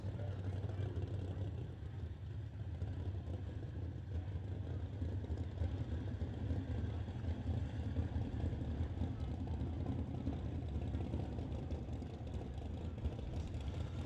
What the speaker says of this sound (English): you hear the first pair firing up and getting ready to roll off